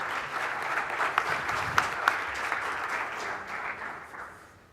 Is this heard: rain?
no